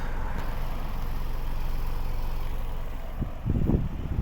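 A 2005 BMW 316i with a 1.8-litre petrol engine and automatic gearbox idles with a steady low hum close by, joined near the end by a brief louder rumble or knock.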